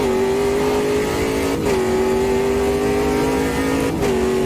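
In the Automobilista 2 racing game, a Ginetta G58 race car engine drones loud and steady, with two quick downshift blips where the pitch jumps briefly, heard from the cockpit without talk.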